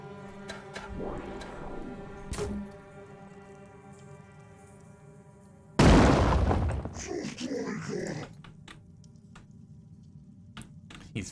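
Grenades blow up in the turn-based strategy game Phoenix Point: a single loud, close blast arrives midway and rumbles off over a couple of seconds. Someone talks quietly before it, and soft interface ticks come and go.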